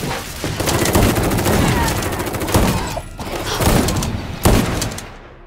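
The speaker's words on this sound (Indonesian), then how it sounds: "Di tengah tembakan yang terjadi" Dense gunfire from a zombie film: bursts of rapid shots and heavy booming blasts that layer into a constant loud barrage, with sharp louder reports standing out every second or so.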